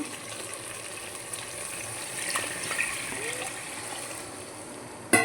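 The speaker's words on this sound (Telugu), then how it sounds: "రసం వేసేసుకుందామండి చింతపండు రసం అయితే చూసారా" Tamarind juice is poured into a simmering fish curry, a steady wash of liquid pouring and bubbling over a continuous hiss, ending in a sharp clatter.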